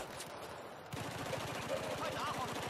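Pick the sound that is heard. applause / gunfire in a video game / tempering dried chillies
gunfire in a video game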